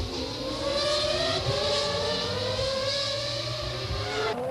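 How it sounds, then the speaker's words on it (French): Formula 1 race cars from the 1998 season passing with a sustained high-pitched engine whine that rises and shifts in pitch, loud and continuous with no talk over it. "Villeneuve, bon prince, laisse passer Michael Schumacher."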